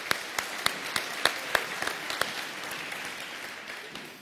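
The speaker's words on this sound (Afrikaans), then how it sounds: "Kom ons gee vir 'n lekker hande klap toe." An audience claps at an event, a moderate burst of applause with distinct individual claps standing out near the start, settling into a softer, even patter that fades toward the end.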